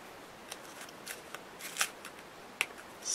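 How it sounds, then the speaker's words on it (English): Scissors snip off leftover thread while a double heart easel card is made, giving a few quiet, brief crisp cuts and small handling rustles, close up with no talking. "So just snip off the rest here of the thread."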